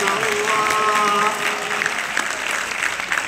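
Applause from a gathered crowd at a selawat gathering of Darul Quran, Kuala Kubu Baru, steady and fairly loud throughout, with a sustained sung or chanted voice layered over the start.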